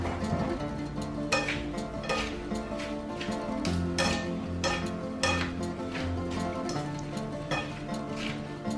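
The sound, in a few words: mixing salad with vinegar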